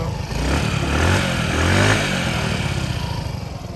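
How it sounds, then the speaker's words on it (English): A small 49cc engine on a 2020 Honda Ruckus scooter revving up twice close by, a buzzing rattly whine that rises and falls, then settles into a steady idle. "little 49cc engine, typical Honda noises"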